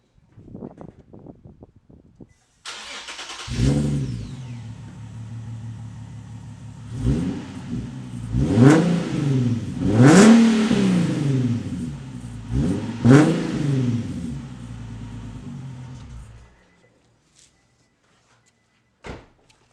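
A Nissan 370Z with no exhaust fitted cranks and fires, then gives several loud, raw revs that climb and fall, idling roughly between blips before shutting off, with a short click at the end.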